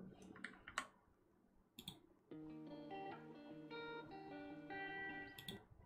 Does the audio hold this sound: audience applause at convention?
no